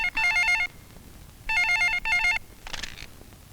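An old-style telephone bell rings in three electronic trilling bursts with short gaps, loud and close, followed by a fainter rustle, in a Hindi-dubbed South Indian action film scene.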